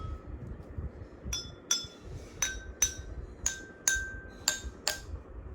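Glasses holding different amounts of water in a homemade water xylophone are struck one after another, eight bright ringing tings at a steady rhythm with differing pitches, close and clear over a faint low background rumble.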